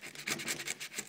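Cardboard mail packaging holding Mitchell & Ness snapback caps is slit and scraped open, a run of close, rhythmic rasping scratches repeating about every tenth of a second, quiet and with no talking.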